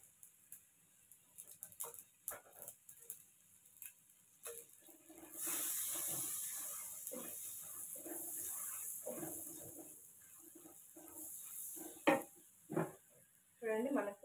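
Dried red chillies dropped into a pan of frying lentils give a soft, steady sizzle through the middle stretch, with scattered utensil clinks and scraping before and after.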